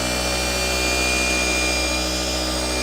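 A power polisher spreads all-in-one car polish in a crisscross pattern, making a steady close motor whine and hum that holds constant throughout.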